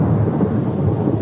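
Steady rolling thunder in a fierce night storm, with rain roaring beneath it, loud and continuous throughout, no voices present.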